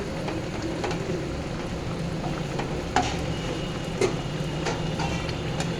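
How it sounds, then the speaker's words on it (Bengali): Chicken being stirred and braised in a pan for chicken kosha, a steady close sizzle and frying crackle running throughout with a couple of sharper scraping clicks of the spoon against the pan. "ভালোভাবে নাড়িয়ে কষিয়ে দেবো।"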